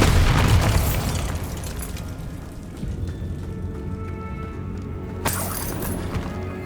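A Bombarda blast spell in the video game Hogwarts Legacy: a loud, booming explosion that rumbles and fades over several seconds, followed by a sharp crackling burst near the end.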